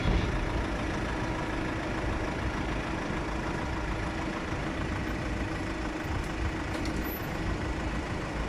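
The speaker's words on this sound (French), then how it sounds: "le camion, là, il m'a laissé passer" A truck passing on a road on the way out of Stockholm, a loud, steady low engine rumble filling the whole stretch, with faint hissy air-brake bursts near the end.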